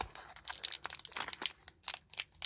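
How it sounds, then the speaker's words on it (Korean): Plastic film is peeled off a 2021 graded Korean coin, giving close, crisp crinkling and crackling bursts in quick irregular runs with short pauses. "여기 이제 비닐이 있으면 안 들어가더라고요 그래서 이제 비닐을 제거를"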